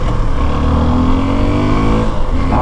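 A Suzuki V-Strom 250 SX adventure motorcycle with a 26 BHP engine revs and pulls on a test ride, its close, loud engine note rising steadily with a brief change near the end.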